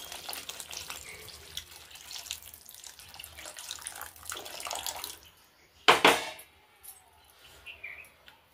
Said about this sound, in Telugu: ఇప్పుడు నేను వాటర్ వేసుకుంటున్నాను ఒక మిక్సీ జార్లో